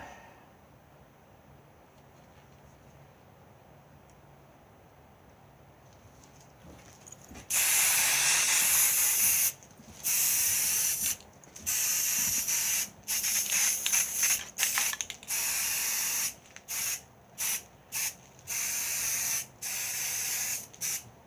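Bursts of aerosol spray paint hissing onto fidget spinner knife holder parts, loud and close, starting with a long continuous blast and then breaking into short repeated spurts with brief pauses between them.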